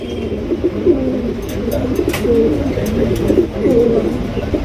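A pair of large high-flying Giribaz pigeons coo steadily throughout, soft overlapping throaty calls close by, with faint chirps and light background noise and no talking.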